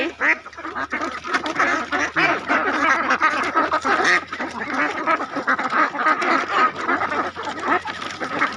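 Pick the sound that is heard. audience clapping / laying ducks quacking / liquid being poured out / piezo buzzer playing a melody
laying ducks quacking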